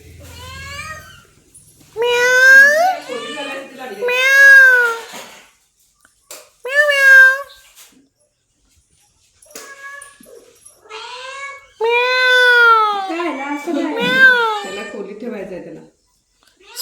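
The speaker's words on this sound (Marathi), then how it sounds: "आला बघ बोका. बोका आला बघ बोका." A tomcat and a kitten meowing indoors in a home: repeated drawn-out, wavering meows, some plaintive and cry-like, coming in bursts with short pauses, close and loud, alongside a voice.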